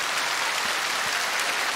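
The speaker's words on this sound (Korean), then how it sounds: "수고의 박수를 크게 주시기 바랍니다." Audience applause at a KBS National Singing Contest (Jeonguk Norae Jarang) broadcast in Busan's Gudeok Gymnasium, a steady wash of clapping from a large indoor crowd throughout, moderately loud with no talk over it.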